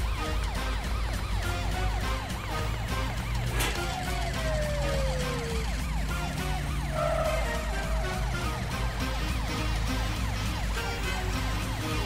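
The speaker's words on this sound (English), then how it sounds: "I can't hear you for the sirens" Overlapping police car sirens wail in a kids' cartoon, loud and continuous, with several rising and falling tones layered over a busy, dense background of cartoon music and effects throughout.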